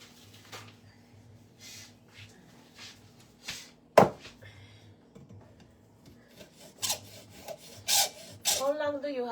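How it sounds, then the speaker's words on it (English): A kitchen knife is drawn over a sharpener in a home kitchen with repeated rasping strokes in an uneven rhythm, close and fairly quiet. One sharp knock stands out, and a voice is faintly heard near the end. "How long do you have to sharpen a knife for it to get really sharp?"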